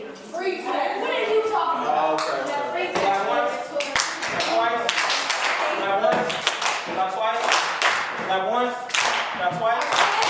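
In a classroom, students clap on command, once and then twice, with short bursts of hand claps mixed under nearly continuous talking.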